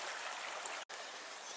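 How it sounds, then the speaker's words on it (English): A mountain stream at a backpacking crossing in the Porcupine Mountains hisses with a steady broadband rush, broken by a brief dropout partway through. "Now we're coming up to the stream crossing."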